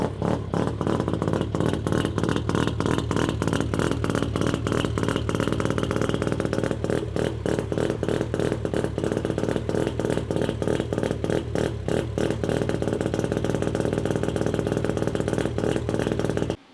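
A Mazda RX-7 rotary engine being rebuilt runs loud and close for the whole stretch, its rapid pulsing rumble steady with light rises in revs and no talk over it.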